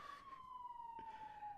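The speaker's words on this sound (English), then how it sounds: "Do you hear the police sirens, people?" A police siren wails steadily as it passes at a distance, its single drawn-out tone sliding slowly lower, with faint traffic rumble underneath and no talk.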